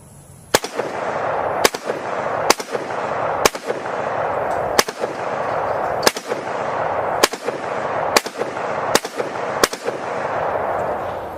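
An AK rifle fires 7.62x39 ball rounds at a steel silhouette downrange, ten sharp, loud shots spaced about a second apart with a steady outdoor hiss between them.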